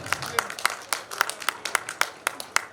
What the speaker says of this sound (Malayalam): എല്ലാവരും ഒരു കയ്യടി പ്ലീസ്